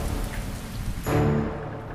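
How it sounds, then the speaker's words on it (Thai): Heavy rain as a sound effect in a children's Noah's Ark story, a steady broadband wash of downpour that swells louder about halfway through, with a faint low tonal hum beneath it and no speech. "ฝนตกมากจริงๆจนท่วมภูเขา"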